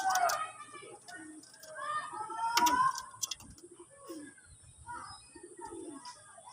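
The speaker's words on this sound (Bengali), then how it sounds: "সবই টিপলার পায়রা আমার।" Male tippler pigeons cooing in a loft, low soft coos and calls repeating through the clip alongside faint chirps, with a person's voice talking nearby in the background.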